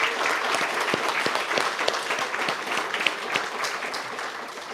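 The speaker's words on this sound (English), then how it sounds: "Please extend a hand of applause to our European Union friends." Steady applause from an audience at a housing-unit handover ceremony in Gaulette, Dominica, a dense crowd of clapping hands sustained evenly for several seconds with no one speaking over it.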